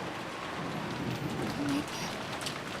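Steady rain in the Umineko visual novel game, a continuous wash of downpour heard close and even throughout, with a low murmur of voice-like sound beneath it.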